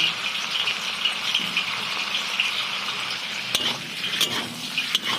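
Potatoes sizzling in a pan of chicken with oyster sauce, a steady bright hiss of frying with occasional clinks and scrapes of stirring, close and continuous with no talking.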